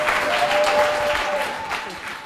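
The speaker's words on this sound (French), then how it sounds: "Est-ce qu'on peut applaudir pour elle?" Loud, close applause from a small audience at a product presentation, a brief burst of clapping with voices mixed in that tapers off after a couple of seconds.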